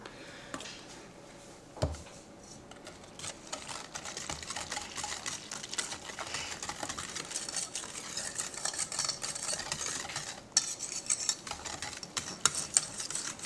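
A spoon stirs vanilla pudding mix in a container, making soft, quiet scraping and clicking sounds in an irregular rhythm, with a sharp knock near the start and scattered louder clinks toward the end.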